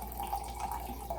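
Everclear alcohol pours from a bottle into a jar in a short, steady trickling gurgle, close and fairly quiet.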